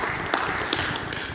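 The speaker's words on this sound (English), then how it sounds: "A round of applause for Mr. Liban." Applause from an audience at an inter-party youth forum at Ufungamano House, a dense steady clatter of many hands held at an even level throughout, with no voices over it.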